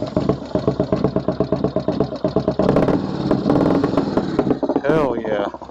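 A roughly thirty-year-old Harley-Davidson big twin Evo motorcycle engine idles with a loping, uneven lumpy beat, close and loud, then revs up briefly and settles, with a voice speaking near the end.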